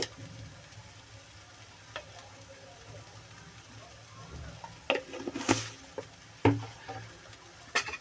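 Cabbage and prawn curry with cumin and garam masala powder is stirred in a pan over low heat, giving a soft, steady sizzle with scattered scraping clinks of the spoon, growing louder toward the end.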